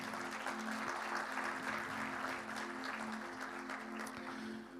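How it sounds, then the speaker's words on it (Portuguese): A church congregation claps steadily in sustained applause for a few seconds, even and continuous with a faint tonal hum beneath. "dê um aplauso bem forte ao Senhor"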